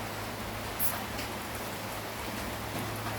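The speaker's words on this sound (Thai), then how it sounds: "มันก็ตกหนักไม่แผ่วเลยนะเพื่อนๆวันนี้บ้านผมเลยก็คงจะตกทั้งวันแหละฝน" Heavy rain pours steadily outside a house, a dense even hiss of drops with a low hum beneath and no voices.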